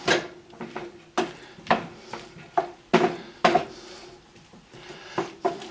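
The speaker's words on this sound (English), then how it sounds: "we're going to stir all this up" Plant-based breakfast taco filling stirred in a pan, with a utensil scraping and clattering against the metal in irregular knocks and scrapes, close and fairly quiet, with no voices.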